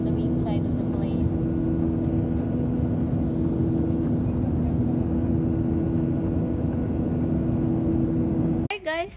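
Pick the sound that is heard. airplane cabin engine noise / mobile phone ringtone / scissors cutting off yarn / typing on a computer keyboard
airplane cabin engine noise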